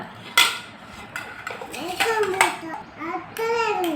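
A lid goes onto a cooking pot of chicken with a sharp metallic clank, followed by lighter clatters of pots and utensils, heard close under a child's babbling and chatter.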